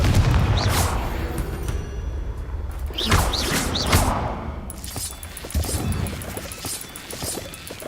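A Confringo blasting curse in the Hogwarts Legacy video game: whooshing magical bursts and booming impacts amid layered game sound, several separate blasts at irregular intervals, fairly loud and close.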